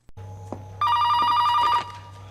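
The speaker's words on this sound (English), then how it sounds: "then the phone rings" A telephone rings in a scene from the film Scream 2, one loud, close electronic ring lasting about a second over a low background drone.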